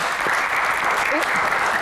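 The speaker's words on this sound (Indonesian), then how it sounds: "tepuk tangan." Applause from a talk-show audience rises steadily across the short moment, a dense even patter of clapping with faint voices underneath.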